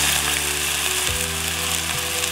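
Steak sizzles loudly in a frying pan with a steady, dense hiss of hot fat, close up, while a low hum runs beneath and a faint clunk from the pan is heard midway.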